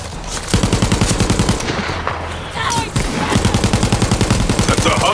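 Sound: gunfire from a gun in the video game Borderlands 3

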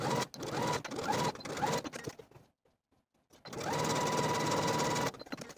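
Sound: sewing machine top stitching a seam

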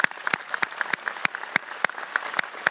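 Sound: final round of audience applause for Lake Bell

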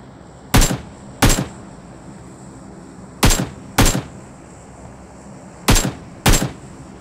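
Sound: gunfire from the video game PUBG Mobile

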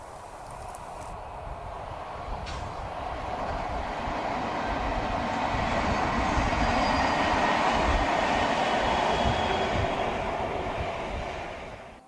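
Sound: Two converted Class 69 locomotives on a train

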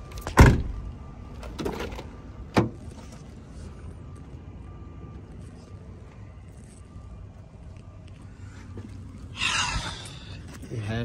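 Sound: car power window moving

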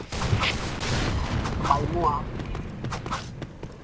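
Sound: gunfire in a video game

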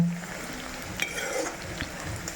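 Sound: amla (gooseberry) pickle frying in oil

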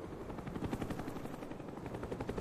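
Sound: Cobra attack helicopter arriving in video game Call of Duty: Black Ops

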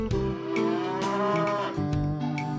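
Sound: cow mooing

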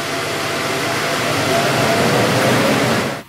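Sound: laser cutter extract fan running

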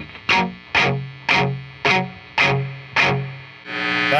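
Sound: guitar amplifier reverb effect

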